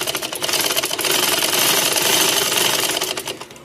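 Sewing machine stitching the hem of a kameez, a fast, loud, continuous mechanical rattle running for a few seconds close up.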